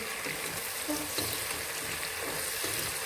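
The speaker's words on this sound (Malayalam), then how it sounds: "നമ്മൾ ടൊമാറ്റോ അരച്ചത് വയ്ക്കാം." Ground tomato hits hot ghee for a chicken mandi, giving a steady, dense sizzling hiss close by throughout, with no voices.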